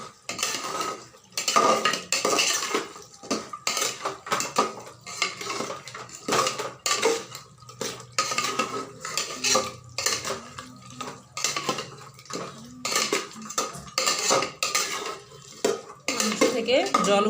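A spoon scrapes and clatters against a pot while mutton is stirred with added red chilli powder, a rapid, continuous run of metallic clinks and scrapes up close, with a faint sizzle underneath.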